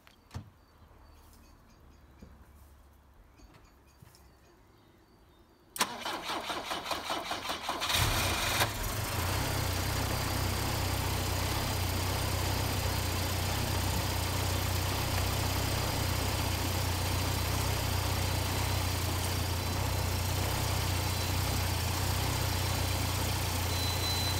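A Volvo 245 GLT engine cranks and catches, then settles into a loud, steady idle that rumbles on continuously for many seconds.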